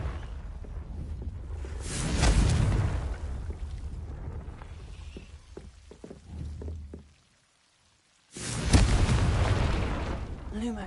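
Confringo explosive spell blasts in Hogwarts Legacy, two heavy booming bursts with rumbling tails separated by quieter crackles and a short silent gap, loud and close, with a voice calling out spells.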